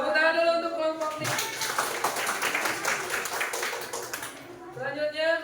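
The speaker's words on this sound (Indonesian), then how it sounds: "Tepuk tangan dulu untuk kelompok ini." A classroom group claps together in a quick burst of many hands lasting about three seconds, bright and close, with a voice speaking just before and after.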